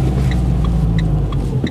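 A learner driver's car engine humming steadily and fairly loud during a driving lesson, with a low even rumble and a few faint high beeps over it.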